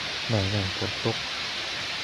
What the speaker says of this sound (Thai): หาที่หลบฝนก่อนพี่น้องครับฝนตกอะเนาะ